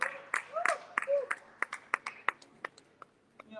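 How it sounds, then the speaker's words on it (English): Sharp, scattered claps from a small audience welcoming first-time guests at an evening gathering. A voice speaks over the start, and the claps thin out to a few isolated ones. "Please clap for them now."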